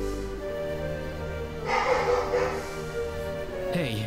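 A dog-like genetically engineered creature in the Star Ocean video game barks and snorts briefly midway, heard over a steady game music background with tonal hum throughout.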